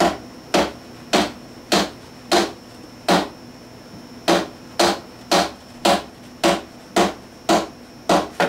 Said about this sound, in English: if you try and hit it without it in the right spot, you can see the hammer just bounces back up on you, and the fret won't go in